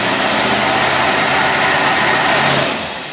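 A Studebaker engine fitted with a carburetor runs under heavy load on a dynamometer with a loud, dense, steady roar. Near the end the sound drops in pitch and eases off.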